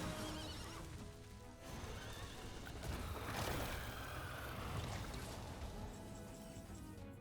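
A horse neighs over the steady clatter of hooves as a Hearthstone card sound effect, a loud whinny rising in the middle of a dense, busy game soundscape.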